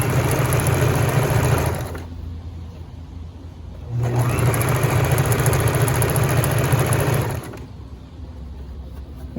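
A sewing machine runs in two steady bursts, stitching a 1/8 inch understitch along a waistband facing with the seam allowance pushed toward the facing, its close motor hum dropping to a low idle between runs, with no talk.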